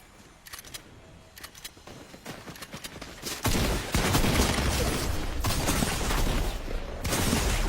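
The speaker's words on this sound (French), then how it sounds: "Ok, ça me tire dessus." Gunfire in a Fortnite battle royale match: a quieter stretch of scattered shots gives way to loud, sustained bursts of rapid fire that dominate the clip.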